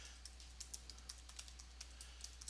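A password is typed on a computer keyboard, a quick irregular run of light key clicks, faint and close, over a low steady electrical hum with no talking.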